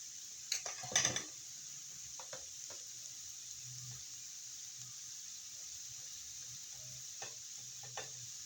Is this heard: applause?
no